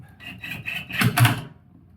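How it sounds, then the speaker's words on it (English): A torque wrench tightens bolts on a 2nd-generation BL Mazda 3 front door, giving close, loud ratcheting rasps in a short series of strokes that grow stronger before stopping. "And bear in mind, I'm using a torque wrench here."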